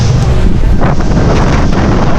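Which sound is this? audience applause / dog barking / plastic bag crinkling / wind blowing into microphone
wind blowing into microphone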